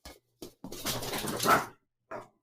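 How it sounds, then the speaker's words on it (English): New puppies bark and whimper in short bursts near a home, with a couple of brief yelps followed by a longer, louder stretch of excited noise. "my dogs were just going nuts"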